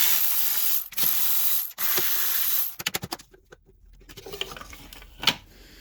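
Intake runner control part being pried off a Hyundai 2.4L engine: a stretch of broadband scraping, then a quick run of sharp ratcheting clicks and snaps, close and fairly loud, with one final crisp click.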